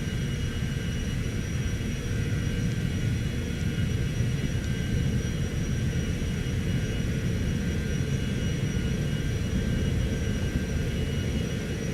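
A Cessna Citation X business jet takes off from Rouen, its engines giving a steady, loud roar and low cabin rumble that holds without a break.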